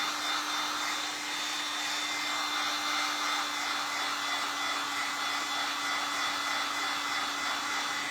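A heat tool warms craft trim, giving a continuous close blowing roar with a steady hum and whine that stays level throughout, with no talking.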